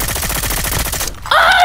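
Rapid bursts of video game automatic gunfire rattle steadily for about a second, then a brief pause gives way to a sharper, brighter blast of shooting.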